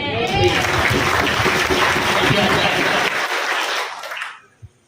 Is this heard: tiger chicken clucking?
no